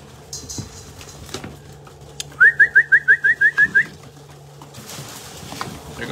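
Pigeons and doves gather at a spread of barley seed; a single bird lets out a clear run of about nine quick, evenly spaced call notes, fairly close, over a low steady background hum.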